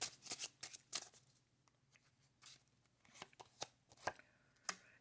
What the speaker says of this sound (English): Let's draw out some more cards.